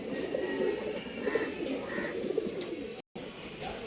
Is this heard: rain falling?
no